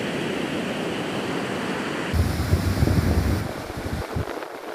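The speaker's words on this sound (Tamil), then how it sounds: "கடல் அலையானது கொந்தளிப்பான் நிலையில் காணப்பட்டது" Rough sea on a stormy coast in strong winds, a continuous loud wash of surf and wind noise that swells into a heavier crashing burst midway, with no voices.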